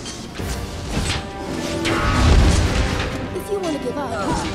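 Bomb explosions in the Ember video game, a dense run of booming, crashing blasts layered over game music, swelling in the middle and staying loud throughout.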